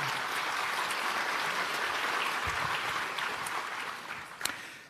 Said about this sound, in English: Can we give Dr. Poon a round of applause to thank him?